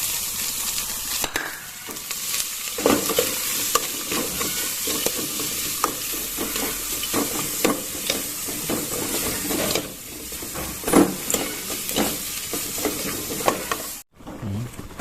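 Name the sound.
stir-frying ingredients in a sizzling pan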